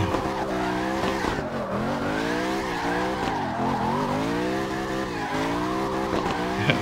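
Ken Block's Fox Body concept car drifts in the racing game CarX Drift Racing 2, a loud engine wailing up and down in repeated revving sweeps as it slides, with tire squeal and no voices.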